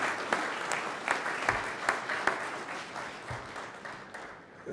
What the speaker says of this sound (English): I just want to give another round of applause to Felix Arroyo.